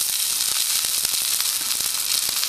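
A homemade survival stove built from a Milo tin burns steadily with a dense, constant hiss and crackle, with small pops scattered through it at close range.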